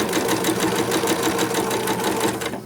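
A sewing machine running a 2.4 length stitch on a Christmas journal cover, with a fast, even mechanical rattle close by, sustained and uninterrupted, no talking.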